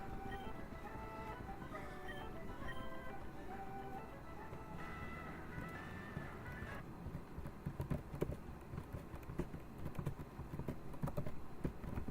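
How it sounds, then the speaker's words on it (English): A computer keyboard clacking during a game, with a fast, uneven run of quiet keystrokes under game music and sound effects. "I always get annoyed at how much you can hear my keyboard clacking"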